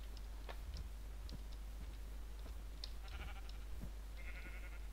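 Sheep in Minecraft bleat a few times, faint short calls over a quiet background with soft clicking steps.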